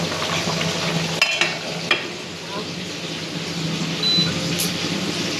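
Beef cooking in a pan, a steady broad sizzle running throughout with a few sharp clinks and scrapes near the start, close and fairly loud, no talking.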